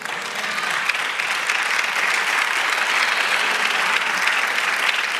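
A church congregation claps together in sustained, steady applause that fills the room evenly, loud and continuous from start to finish with no talking over it.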